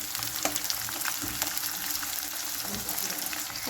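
Sliced onions fry in a pan for green chicken. A steady, close sizzle and crackle runs throughout with occasional stirring scrapes, and no voices are heard.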